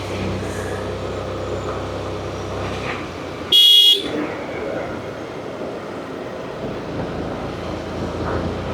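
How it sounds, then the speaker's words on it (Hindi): A scooter's horn gives one short, sharp honk on a mountain road, cutting through steady wind and road rumble from the moving ride. "हॉर्न बजाना शुरू करो।"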